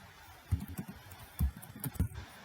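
Light typing on a computer keyboard while entering a part name in CAD software, a few quiet, irregular key taps in small clusters against a faint background hum.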